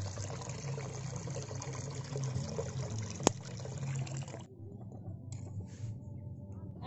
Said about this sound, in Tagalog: Maglagay lang tayo ng tubig.